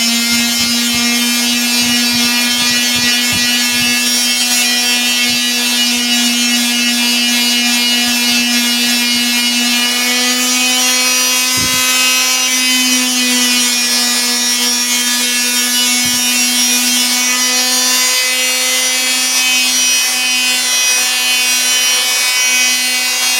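Wire wheel stripping old finish off a steel shotgun barrel on a Winchester Model 120 12-gauge, a loud steady motor whine with a constant tone, broken by scattered gritty scraping bursts, no voices.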